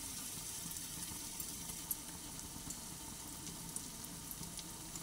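Chicken pieces frying in oil over a lowered gas flame, a faint steady sizzle with small scattered pops, no voices.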